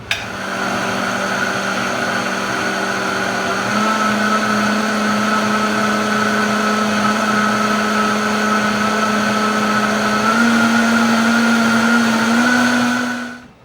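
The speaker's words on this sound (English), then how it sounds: "when you turn your blender on" A blender blending butter chicken gravy whirs steadily at close range, its motor pitch holding level and then rising slightly near the end before cutting off.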